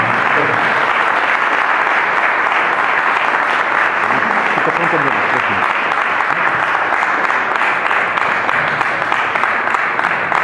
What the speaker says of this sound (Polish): Gorące brawa, zapraszam na scenę.